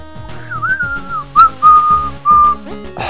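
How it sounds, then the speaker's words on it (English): A person whistles a short, wavering melody of several sustained notes alongside VVVVVV video game music. The whistling is clear, close and prominent. "This game just makes me want to whistle"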